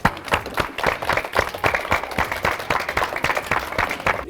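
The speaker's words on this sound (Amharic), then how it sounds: "እስቲ አጨብጭቡላቸው።" Sack race winners at a kindergarten games day get brisk applause, a steady patter of many hands clapping at moderate volume with no talking.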